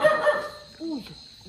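A dog barks once, fairly close, after a short stretch of faint whining and background sounds in a home setting.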